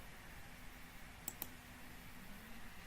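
Two quick, faint mouse clicks, close together and soft, over a quiet background hum while clicking Apply in a DataPower network settings screen.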